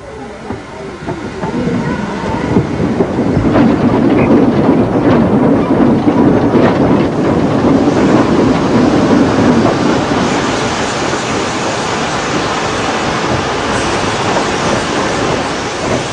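A locomotive runs along a railway track with a loud, continuous rumble and rhythmic rolling clatter that swells and then holds steady, with no voices.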